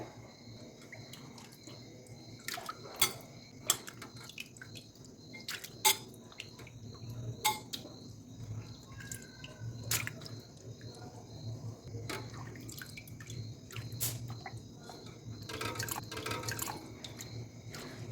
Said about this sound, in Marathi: मी आता हे बटाटे तीन ते चार वेळेस धुवून घेत आहे याचा पूर्ण आपण स्टार्च काढून घ्यायचा